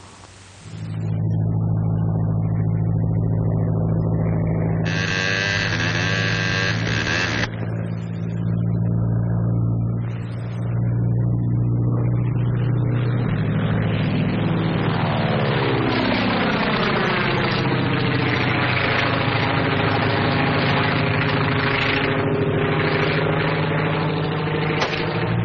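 A small propeller plane with a smoke attachment drones steadily overhead near Pine Mountain, its engine tone holding loud and continuous, swelling and shifting in pitch as it passes, with brief higher whines mixed in.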